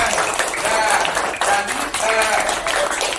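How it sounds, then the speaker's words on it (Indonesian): Students applauding in a classroom, a steady wash of clapping with voices chattering over it throughout. "Iya, tepuk tangan kalian."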